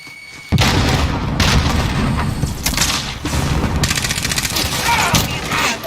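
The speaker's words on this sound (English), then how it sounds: "Frag out!" A frag grenade detonates in a first-person shooter video game with a sudden loud boom about half a second in, followed by several seconds of dense, continuous gunfire and rumbling battle noise.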